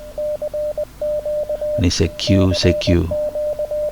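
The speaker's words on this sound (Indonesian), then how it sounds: "Kalau Morse, kira-kira bentuknya seperti ini nih" An amateur radio Morse code CQ call at about 20 words per minute: steady single-pitched beeps in clipped dot-and-dash bursts run throughout, briefly masked midway by someone talking over them.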